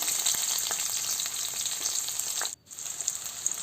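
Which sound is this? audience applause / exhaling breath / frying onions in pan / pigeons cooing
frying onions in pan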